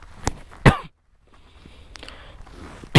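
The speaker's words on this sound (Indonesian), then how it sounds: "Masih batuk teman-teman." Two sharp, harsh coughs, one early and one after a short pause, with faint room noise and a final abrupt burst at the end.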